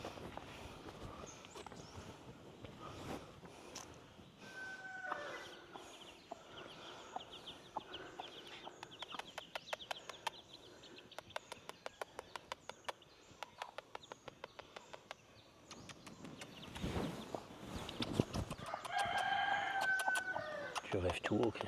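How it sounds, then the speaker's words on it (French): A rooster near straw houses crows several times, with clucking fowl and scattered clicks around it, moderately distant, while people talk intermittently. "vous pouvez entendre régulièrement le bruit du coq"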